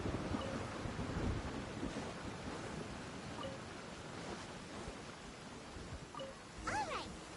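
Steady rumbling rain of a thunderstorm in Genshin Impact, low thunder rolling under a constant hiss of rainfall, with a brief tonal sound near the end.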